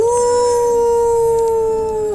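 A werewolf-style howl, apparently voiced by a person imitating it, holds one long, loud, steady tone for about two seconds before dropping off at the end.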